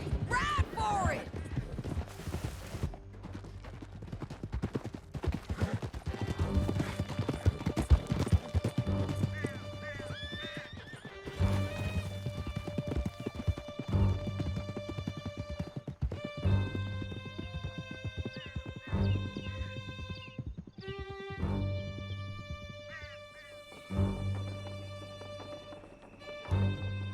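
Horses gallop in Red Dead Redemption 2 with steady rapid hoofbeats throughout, neighs breaking in now and then, and music and other sounds layered over the riding.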